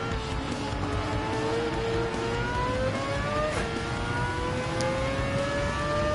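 A GT3 rotary-engined race car in Gran Turismo 7 on the Dragon Trail circuit gives a steady high-pitched buzzing whine that climbs gradually in pitch as it accelerates, loud and continuous with no voices.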